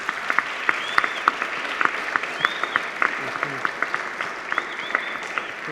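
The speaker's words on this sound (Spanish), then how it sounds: "queremos pedir un fuerte aplauso para nuestra madrina de lujo, Marta Rivapalacio" An audience at a book presentation at a book fair claps in welcome for the event's godmother, a dense steady applause of many hands sustained throughout, with a few voices faintly underneath.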